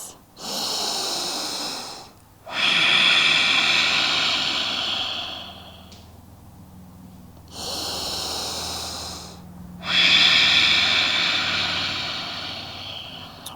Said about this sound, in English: And breathe. Two more breaths.